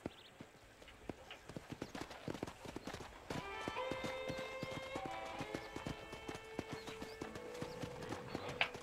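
Rapid, steady clip-clop of horse hooves in Red Dead Redemption, with a synthetic game-like quality, joined partway through by a sustained tonal chime layer.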